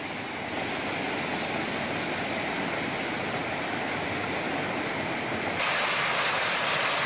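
A small community stream swollen after heavy rain rushes loudly and continuously, a dense close-up roar of churning water with no voices, brightening slightly near the end.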